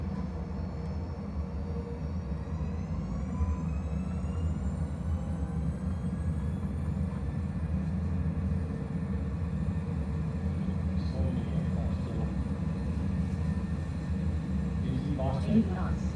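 Airliner engines in a flight simulator spool up for takeoff, their rising whine climbing in pitch over a continuous roar and then holding steady, with a voice speaking over it.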